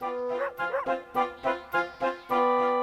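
A dog barks repeatedly in a steady series of short, loud yips and barks, close by, ending in a longer sustained bark.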